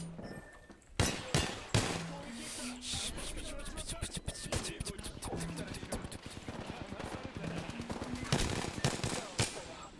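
Rapid bursts of gunfire from an Apex Legends match crackle almost continuously, with sharp individual shots and automatic fire layered over game sounds and footsteps, while a player talks throughout.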